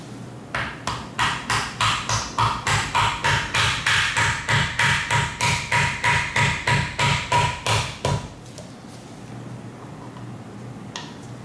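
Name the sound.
mallet tapping a part into BMW E36 differential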